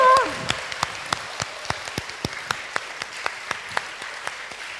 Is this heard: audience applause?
yes